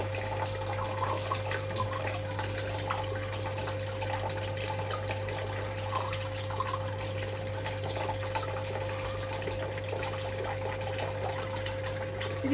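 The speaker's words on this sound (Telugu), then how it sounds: "వాటర్ ఫ్లో ప్రెషర్ పెరుగుతుంది" Water runs steadily from the tap of an Enagic LeveLuk SD 501 water ionizer, a continuous close hiss with a constant low machine hum underneath, unchanging for the whole stretch, no talk.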